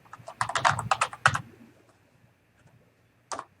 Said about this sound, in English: you could type in course syllabus